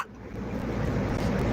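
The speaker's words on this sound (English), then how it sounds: "This this is old Mama Dog" An old mother dog barks, a short, close sound rising at the end of a brief stretch of low background noise.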